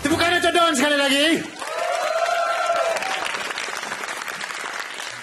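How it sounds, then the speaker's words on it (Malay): Stand-up comedy audience applauding and cheering for a comedian at a Malaysian comedy show, loud crowd clapping mixed with whoops, while a voice talks over the start. "Tepukan untuk Don sekali lagi."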